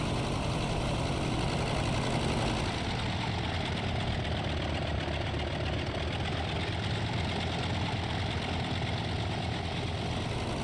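A Polikarpov U-2VS biplane engine rumbles steadily while the aircraft taxis in a flight game: a continuous, close, throbbing drone with a slight knocking texture and no pauses.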